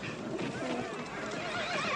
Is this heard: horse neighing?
yes